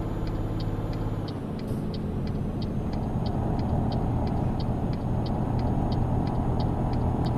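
A heavy truck cruises at about 60 km/h behind other trucks in Euro Truck Simulator 2, with a steady engine and road drone and a regular faint ticking throughout.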